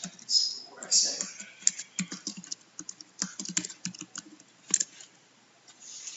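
Typing on a computer keyboard, entering an assignment title: a continuous, fairly close patter of key presses with uneven rhythm and a few louder clacks, while a voice talks faintly underneath.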